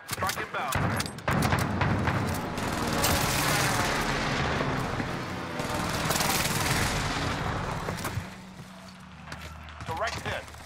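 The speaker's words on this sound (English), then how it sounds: "This is Phoenix 3. Strike inbound." Precision airstrike explosions and gunfire rage in Call of Duty Warzone on Rebirth Island, a dense sustained roar of blasts and shots that fades, then gives way to a few scattered bursts, with radio voices speaking over it.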